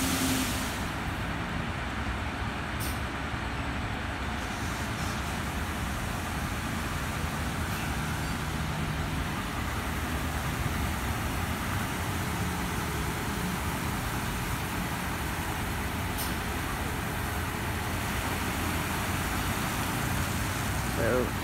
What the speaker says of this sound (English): Now we're getting spot-free rinse water